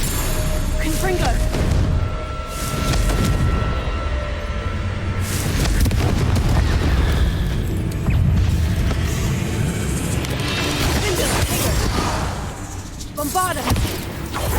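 Confringo fire spells blasting in Hogwarts Legacy, loud booming fiery bursts and crashes layered over busy game sounds and a voice, with repeated explosive hits across the stretch.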